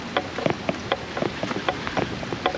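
Rain falls outdoors with scattered drops pattering on a surface, a steady wet hiss broken by frequent crisp taps, close to the microphone.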